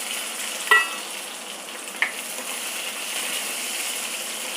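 Onion sautéing in hot oil with cumin and curry leaves gives a steady, close sizzle, with two sharp clinks from a utensil against the pan early on.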